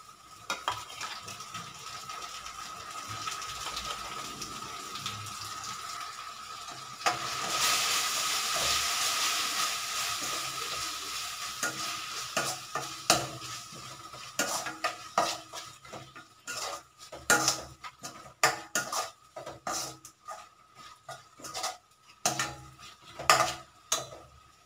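Ginger garlic paste hits hot oil with softened onions in a pan, a steady loud sizzle flaring up, then repeated metal spoon scrapes and clinks as it is stirred, rising and falling in irregular bursts.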